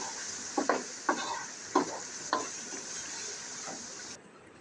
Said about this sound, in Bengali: দিয়ে মশলাটাকে একটু তেলের সাথে ভেজে নেব